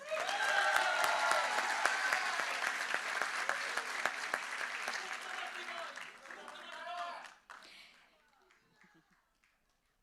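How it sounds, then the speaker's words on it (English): Loud audience applause for gubernatorial candidates at a Filipino community forum in Guam, thick sustained clapping with some crowd voices that thins out and stops abruptly, leaving near silence. "how about one more round of applause for each of your candidates for governor?"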